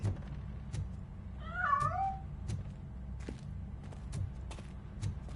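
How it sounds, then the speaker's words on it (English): A cat gives a single drawn-out, wavering meow in a video game, heard clearly over a low background rumble and scattered soft clicks and taps. "That cat must be hiding inside."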